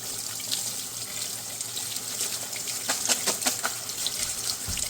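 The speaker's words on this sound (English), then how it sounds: "you rinse it under fresh water really, really well so you don't get any of that residual salt changing the flavor" Basil leaves rinsed under running tap water into a sink, a steady, fairly soft splashing stream with faint spattering, heard alone without any talk.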